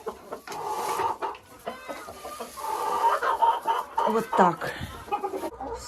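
Hens cluck and murmur in a poultry yard with Araucana chickens and turkeys, a continuous busy chorus of close, overlapping clucks, with someone speaking briefly.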